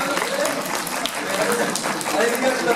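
A burst of clapping and applause fills the whole stretch, steady and fairly close, with a voice talking over it.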